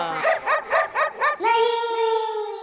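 A dog gives five quick, evenly spaced barks, then one long, drawn-out howling whine, close and fairly loud.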